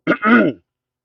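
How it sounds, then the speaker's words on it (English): One short, close throat clearing, a quick two-part rasp, then silence. "Let me clear my throat."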